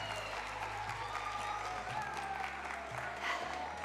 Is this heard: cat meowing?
no